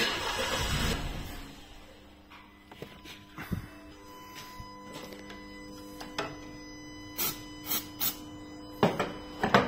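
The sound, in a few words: Renault Duster car engine starting with difficulty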